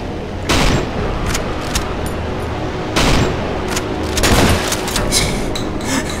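Gunfire in the horror game Cry of Fear, loud close shots in several bursts with booming reports spread across the stretch, no talk over it.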